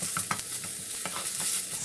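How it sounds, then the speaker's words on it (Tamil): Ginger garlic paste sizzling with onions in a frying pan while cooking prawn fry, a steady close crackle with soft stirring scrapes throughout, no talking. "இஞ்சி பூண்டு வதங்கிடுச்சு."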